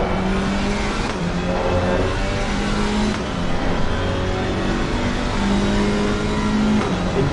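Onboard an Alpine race car at Imola, the engine roars continuously close up, its pitch climbing and dropping through gear changes with brief tire noise.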